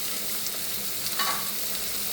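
Potatoes frying in a pan for a Bengali aloo kosha dish, a soft continuous sizzle with a brief stir or scrape midway, fairly quiet and without talk.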